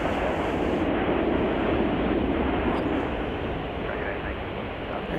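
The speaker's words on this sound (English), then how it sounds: "There's Delta flight over there." A Delta airliner flying at Chicago O'Hare airport produces a broad, steady roar that fills the whole stretch and eases slightly toward the end, with muffled voices faintly underneath.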